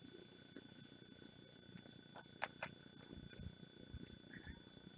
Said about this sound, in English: Oh, listen to those bugs. Cicadas, crickets.